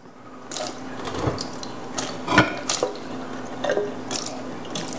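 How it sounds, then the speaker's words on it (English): Water splashes and trickles in uneven bursts, with occasional drips, as it is tipped out of a container of homemade sauerkraut nearby. "So I'm gonna dump the water out of the lip."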